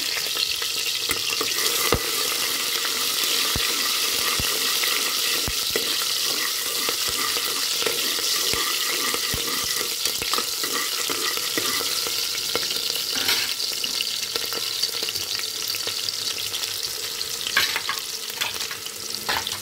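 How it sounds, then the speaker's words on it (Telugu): Chopped green chillies fry for mutton curry, giving a steady close sizzle broken by sharp clicks and scrapes of a stirring spoon against the pan, with no one speaking. "ఆ పచ్చిమిర్చిని కూడా వేసేసుకోవాలి. బాగా వేయించుకోవాలి ఫ్రెండ్స్."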